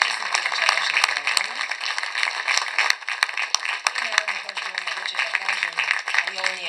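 An audience in a cultural centre hall applauds a singer with steady, dense clapping that carries on throughout, a few louder individual claps standing out from the crowd.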